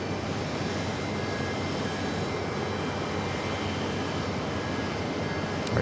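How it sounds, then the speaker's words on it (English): An EgyptAir jet taking off on runway 4 right at JFK, a steady, broad roar of jet engines held loud and constant with no voices. "EgyptAir now rolling down, 4 right"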